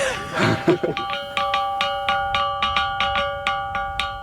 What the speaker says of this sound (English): It's not a bell, but it's what we call the rock gong.